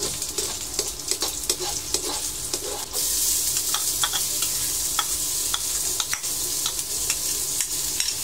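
Ginger and onion sautéing in hot oil for adobong sitaw, a dense continuous sizzle close by with frequent sharp spatula scrapes and taps against the pan, the frying growing a little brighter partway through.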